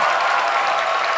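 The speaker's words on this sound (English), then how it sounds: "please stand up and applaud the immaculate organization" Audience applauding the debate organizers at a debate finals, a dense, steady burst of clapping from a full room, loud and sustained without pause.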